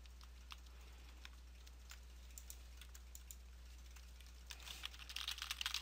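A computer keyboard clicks with scattered, quiet keystrokes while playing Tibia. The typing grows quicker and denser toward the end, against a low steady background hum.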